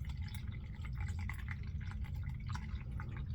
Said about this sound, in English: So we're going to take the honey crisp apple. We're going to pour it into this.